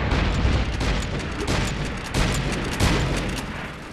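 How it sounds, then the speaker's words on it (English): Explosions and gunfire fill a battlefield in the online shooter MAG: a dense, loud wall of rumbling blasts and rattling shots, with a couple of heavier booms standing out partway through. "Throw a grenade by the hole in the wall."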